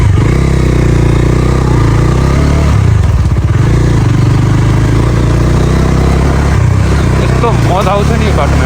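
A dirt bike ridden on a rough off-road village track roars loudly and close, its engine droning continuously with revs and clattering, while a voice talks over it.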